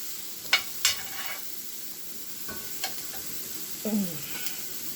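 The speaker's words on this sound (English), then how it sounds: "I'm going to add my meat, and I'm going to let it all cook down" Leftover Thanksgiving turkey meat cooking down in a pan with onions, oil and seasonings, a quiet low sizzle broken by a few sharp spoon clinks and stirring scrapes.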